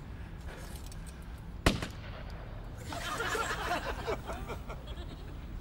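A starting gun fires a single sharp, loud crack at a sprint start, followed by a scuffle of movement and muffled voices.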